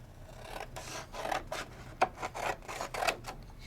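Craft materials are cut by hand in a quiet room. A series of short, soft rasping cuts and rubs comes close by, irregular and faint, with no talking.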